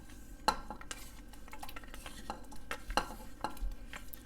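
Pasi paruppu payasam with dry ginger powder, roasted coconut and cashews being stirred in a pot, soft spoon scrapes and light clinks of metal at an uneven rhythm, fairly quiet, with no talk.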